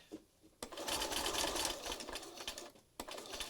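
A sewing machine with its feed dogs up tacks layers of a mixed-media scrappy collage card together. A loud, continuous rattling run of stitching lasts over two seconds, cut off sharply, then starts again.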